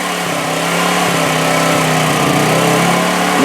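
A Honda generator engine runs steadily and loudly up close, a constant buzzing drone with no pauses or changes in pace.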